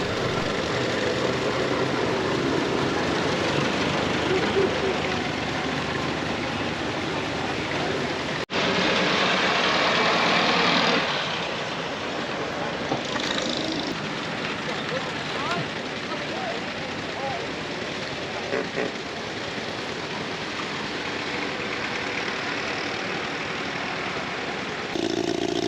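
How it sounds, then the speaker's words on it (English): Veteran pre-1919 cars setting off one after another at a rally, engines running with a steady broadband mechanical clatter and rumble, loud and continuous throughout with a brief louder surge partway through. "You can see all the cars are starting to head off."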